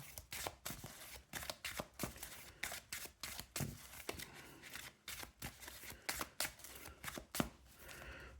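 A deck of Yu-Gi-Oh cards is riffled and shuffled in quick, crisp bursts of papery flicks, close and fairly quiet, with no voices.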